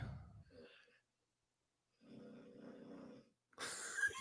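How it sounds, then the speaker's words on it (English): Faint, brief snoring from a sleeping man: a low rattling breath lasting about a second, then a louder burst of noise at the end. "Is that him snoring?"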